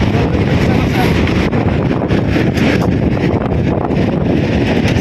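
Strong wind buffets the microphone in a constant loud roar with gusty surges throughout.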